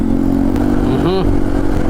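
A Vespa scooter engine putters close by in heavy Metro Manila traffic, with a brief horn-like tone rising in the middle.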